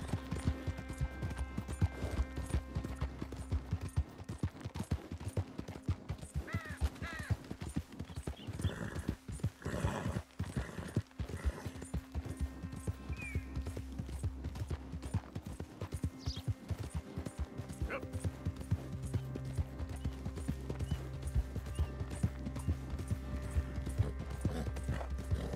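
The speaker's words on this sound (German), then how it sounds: "So, dann reiten wir mal dahin." A horse gallops in Red Dead Redemption 2, its hooves clip-clopping in a steady, rapid rhythm for the whole stretch, loud and close, with occasional whinnies and game ambience underneath.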